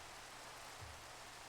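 Rain in the video game Minecraft: a faint, steady hiss of falling rain with no distinct drops and no talking, running evenly throughout.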